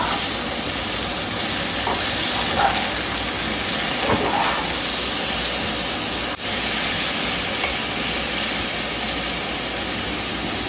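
Vegetables fry in a pan as salt goes in and they are stirred, giving a continuous close hiss and sizzle with a few soft knocks and scrapes.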